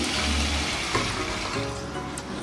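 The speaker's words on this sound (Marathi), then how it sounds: "मसाल्याचं थोडं हे राहिलेलं आहे त्याच्यातच आपण पाणी घेऊन टाकतोय." Water is poured into a cooking pot holding leftover spice paste to make misal gravy, a close steady pouring gush that tapers off with small splashes.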